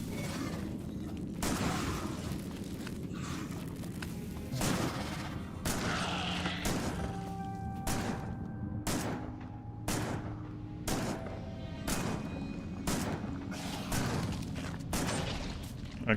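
Repeated booming blasts of enemy mortar fire in Factorio, a steady series of loud broadband impacts spaced about a second apart, with tonal game music or alarm tones ringing between them.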